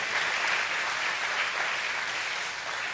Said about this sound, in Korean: 한번 큰 박수 좀 한번 해주시죠.